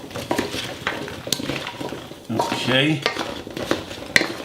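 A utensil stirring and scraping a salt-free dish with ginger in a home kitchen, with clinks of metal on the dish and rhythmic mixing strokes, plus a short spoken word.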